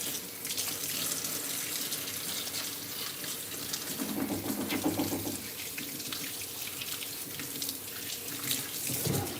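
Tap water runs steadily into a clean kitchen sink for hand washing before vegetables are rinsed, a continuous close rushing splash lasting throughout with no voices.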